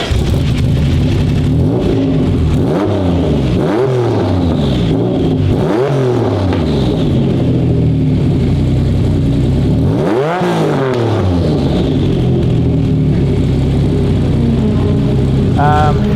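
A Toyota 86 with a swapped R35 GT-R twin-turbo engine and side-exit exhaust through the passenger door, with screamer pipes and mufflers, revs repeatedly in sharp loud blips, settling to a rough idle between them.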